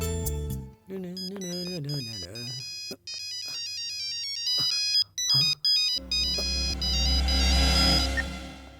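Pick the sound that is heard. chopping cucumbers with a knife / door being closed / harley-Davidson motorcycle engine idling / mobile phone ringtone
mobile phone ringtone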